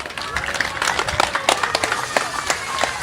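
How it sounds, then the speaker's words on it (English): Outdoor crowd at a park playground ribbon cutting ceremony clapping steadily, a dense burst of applause with some cheering, loud and close throughout. "So a big round of applause for Marie."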